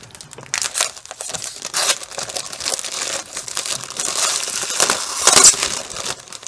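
Plastic wrap is peeled and crumpled off the back cover of a book, a loud, continuous close-up crinkling and crackling with sharper bursts throughout.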